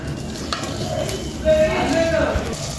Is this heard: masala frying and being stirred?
yes